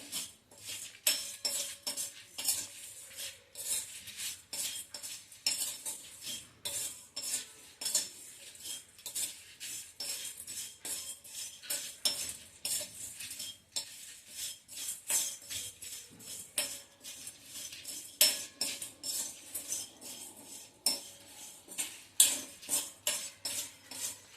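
Spices and curry leaves dry-roast in a pan without oil, with a spoon scraping and clinking against the metal in a quick, steady, close rhythm of repeated strokes, and no voices.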